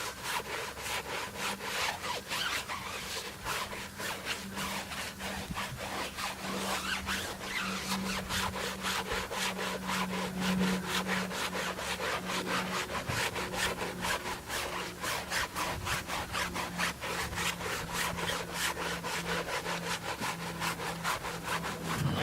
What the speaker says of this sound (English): this wheel brush is just a generic wheel brush that I got from O'Reilly's